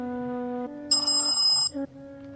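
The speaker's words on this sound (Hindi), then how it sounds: "जमाल के फोन पर इतनी रात को कौन फोन कर सकता है?" A phone rings late at night with an electronic ringtone: a sustained tone shifts into a brighter, louder multi-note burst, then drops back to a lower tone. The sound is close and clear, with no talking.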